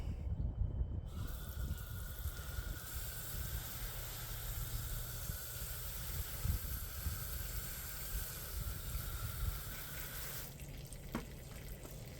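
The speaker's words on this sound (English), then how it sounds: "let's give the tree a good water." Water pours and splashes steadily into the soil of a freshly repotted Chinese fringe bonsai tree for several seconds, a continuous close trickling hiss that stops near the end.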